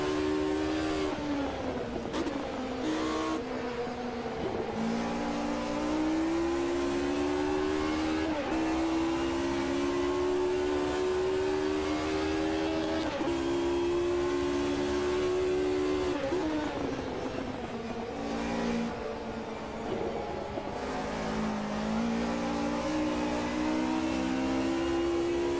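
Race car engines in an Automobilista 2 race: a close, droning engine note that rises steadily through the gears, drops sharply at each shift and climbs again, continuing without a break.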